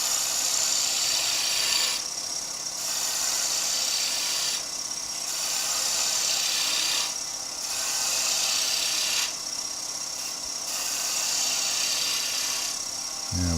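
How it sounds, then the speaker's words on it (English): A skew chisel shaves timber spinning on a wood lathe, making loud, steady rasping cuts in repeated passes of about two to three seconds, each separated by brief dips. "Still cutting with the bottom half of the skew chisel"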